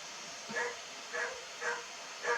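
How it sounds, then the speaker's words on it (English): Dogs bark in a home studio, four short, evenly spaced yips over a faint steady computer hum, moderately close but fairly quiet. "The computer is buzzing and the dogs are barking"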